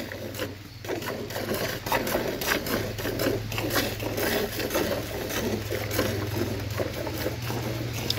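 Rhythmic squirts of milk from hand milking a cow hitting a stainless steel bucket, quick regular strokes repeating steadily under a continuous low hum.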